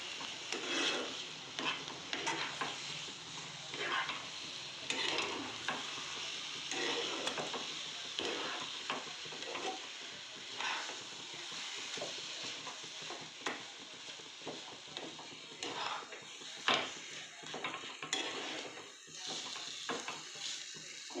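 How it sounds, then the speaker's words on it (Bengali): Semolina being stirred in a pan into a dry dough, giving a steady, close scraping and shuffling texture with soft intermittent clicks throughout, no voices. "সুজিটাকে এখন ভালো করে নাড়তে হবে। নেড়ে চেড়ে একটা শুকনো ডো তৈরি করতে হবে।"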